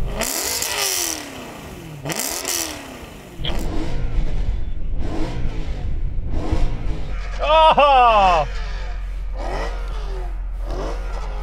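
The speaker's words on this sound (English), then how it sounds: "Let's have a listen to the E92 naturally aspirated V8" A powerful BMW E92 M3 naturally aspirated V8 revs repeatedly in sharp rising blips, then settles into a deep idle rumble before more high-pitched revs; a brief exclamation is heard.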